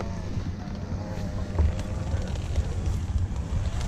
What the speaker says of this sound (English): a little bit of gust of wind right there was a little much of a warning for me